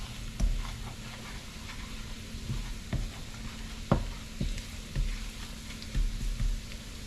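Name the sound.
black pepper, garlic powder and paprika frying in a pan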